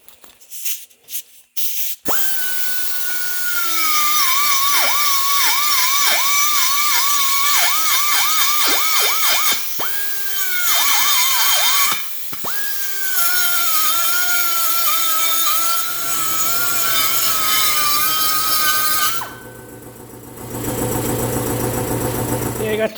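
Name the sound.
die grinder shaping a metal body mount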